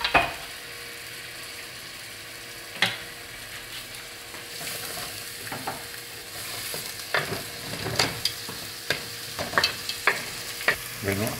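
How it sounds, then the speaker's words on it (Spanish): Onion sautéing in a pan, a constant sizzle with scraping and clicking stirring strokes that grow denser and louder toward the end. "Y ponemos a sofreír la cebolla"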